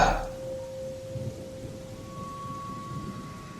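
Rain falls steadily on surfaces during a thunderstorm, a dense even hiss with low thunder rumbling beneath, after a brief louder burst at the start; no one speaks.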